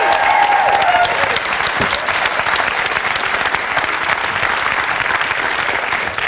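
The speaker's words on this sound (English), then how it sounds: "Give her a big round of applause." A studio audience gives loud, sustained applause for a volunteer at a magic act on a Saturday night television show, a thick wash of clapping from a large crowd that holds steady the whole time.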